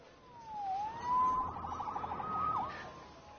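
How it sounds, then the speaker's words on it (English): A distant police siren wails, sliding down and up, then breaks into a rapid yelping warble before fading, heard faintly from afar. "Saved by the siren."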